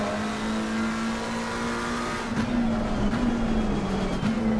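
McLaren 720S GT3 EVO race car in Assetto Corsa Competizione at Spa, engine droning steadily and then climbing in pitch as it accelerates hard on the throttle, loud and continuous.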